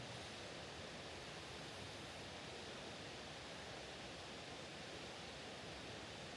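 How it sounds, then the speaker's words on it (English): A steady, faint hiss of rushing water continues evenly without pause, like a distant stream or small cascade, near Shiraito Falls by Mt. Fuji, Japan. "We can hear running water,"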